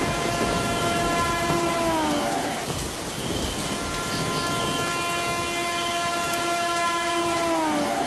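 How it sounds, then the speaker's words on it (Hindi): A train arrives at a railway station as a sound effect: long, loud horn blasts ride over a continuous rumbling roar of the rails, with a brief dip in the horn midway. "रेलवे स्टेशन पर आखिरी ट्रेन आई।"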